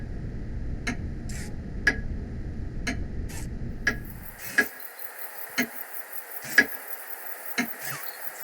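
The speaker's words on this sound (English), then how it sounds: "the grandfather clock and on the dock clock have a different sound effect from the elegant and rustic clock towers" A video game clock, such as a grandfather or clock tower timepiece, ticks steadily about once a second, crisp and close, over a low ambient hum that drops away midway.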